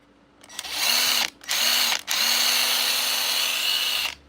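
A Ryobi brushed cordless drill whirs in three close bursts, two short spins and then a longer sustained run, with no talk over it.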